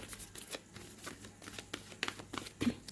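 Tarot cards being shuffled, a close and fairly soft run of rapid riffling flicks, irregular and continuous for the whole span.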